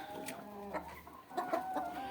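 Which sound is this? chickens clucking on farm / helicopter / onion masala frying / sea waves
chickens clucking on farm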